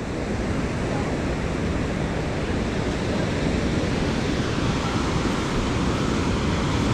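Strong ocean waves roar continuously as a steady, loud wash of surf, with wind buffeting the microphone.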